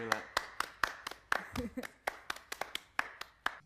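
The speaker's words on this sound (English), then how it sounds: "applaud you again" A small audience claps sparsely at a student TV production, with distinct, separate hand claps at an irregular rhythm and a brief spoken word in between.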